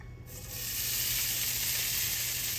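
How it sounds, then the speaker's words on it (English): Hash browns tossed into a hot skillet for a one-pan breakfast set off a sudden sizzle that swells within a second into a loud, steady frying hiss, with no talking. "Get the hash browns in the skillet here. Throw them in here."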